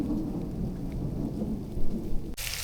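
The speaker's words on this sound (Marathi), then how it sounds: "विजा जोरात कडकडतात. पाऊस आहे. हलकासा पाऊस पडतोय बघा." Steady patter of light rain with low rumbling thunder near a riverside village cooking spot, ending in a sudden bright crack of close thunder.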